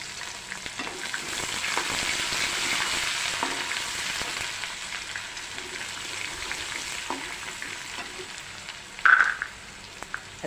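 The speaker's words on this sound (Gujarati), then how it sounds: "હવે તેમાં ચીણી સમારેલી ડુંગળી એડ કરીશું" Finely chopped onion sizzles softly and evenly in a pan of oil with peanuts, cooking for semolina upma. A few light stirring clicks sound over it and a sharper clink comes near the end.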